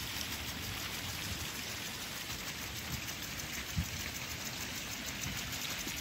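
Steady hiss of water spraying onto planted trees in a small German amusement park, a continuous close wash with no talk.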